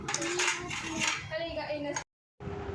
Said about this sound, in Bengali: দেখো আমি এখন চাটনি বাড়ছি দেখতেই পাচ্ছ